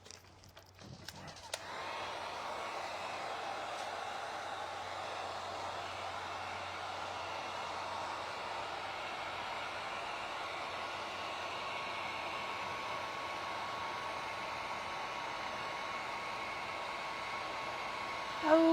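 Hair dryer blowing on a watercolor painting, a steady whooshing hum that switches on after a brief clatter and runs loud and unbroken to the end.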